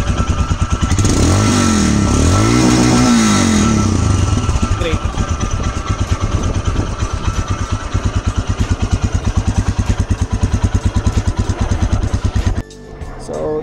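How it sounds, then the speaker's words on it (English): A Royal Enfield Himalayan FI BS4 motorcycle runs with a steady, loud thumping single-cylinder exhaust note, rising in a couple of revs early on, then a rhythmic idle that cuts off near the end. "we'll start the motorcycle and have the exhaust note"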